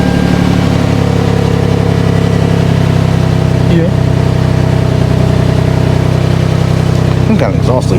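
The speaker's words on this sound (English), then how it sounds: "Got an exhaust leak too, I think." A 2006 Toyota Sienna with a suspected front exhaust leak idles close by, a loud, steady low engine drone with a brief rev-like flutter near the end.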